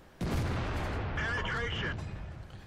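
A single heavy tank gun shot from an SU-100 tank destroyer in World of Tanks, a sudden loud boom with a long rumbling tail on the Redshire map.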